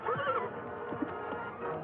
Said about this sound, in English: Here is the war horse, Black Cloud.